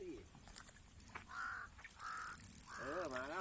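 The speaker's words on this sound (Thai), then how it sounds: "อย่าฟาวนะอีกามันร้องทักนะ" A crow caws several times, drawn-out nasal calls rising over an outdoor fishing spot by a dam, somewhat distant over background noise and faint voices.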